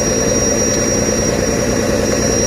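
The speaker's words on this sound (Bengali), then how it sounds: "Indian fishing trawler" The engine of an Indian fishing trawler heading out to deep sea drones loudly and evenly, a constant close-up throbbing with no break and no talk.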